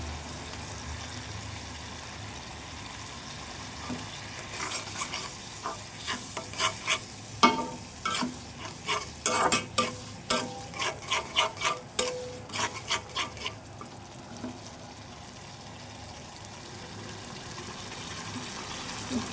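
Cumin paste, salt and turmeric powder are stirred and fried in a pan, with a quiet sizzle underneath. In the middle stretch comes a run of quick, rhythmic scraping strokes against the metal, and then it settles back to a low frying hiss.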